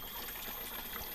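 Water trickles from a spout at a village well behind a house, a faint, steady, even dribble with no voices over it.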